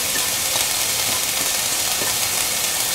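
Ginger, garlic and shallots sizzle steadily in hot oil in a pan, a constant, close, moderately loud hiss with faint crackles and no talking.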